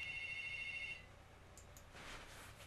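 A phone ringtone chimes in steady electronic tones for about a second, then cuts off, leaving a faint room hum and a soft rustle.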